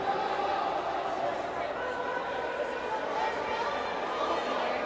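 Crowd noise in a gym at a Dawg Bowl basketball game, St. Nick's against Los Muertos: a steady murmur of chatter and scattered voices during a break in play, moderately loud and continuous.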